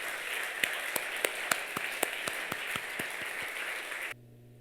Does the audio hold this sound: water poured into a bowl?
no